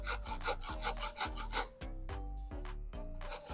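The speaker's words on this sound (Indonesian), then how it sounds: "pakai kikir ya." A hand file rasps off the threaded end of a motorcycle clutch cable in a steady series of about eight close, loud back-and-forth strokes, with no talking.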